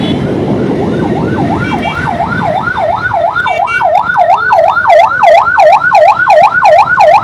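A police vehicle siren at a road accident scene on the Sylhet–Dhaka highway near Telibazar, a loud close wailing tone rising and falling in fast regular sweeps over rumbling traffic noise.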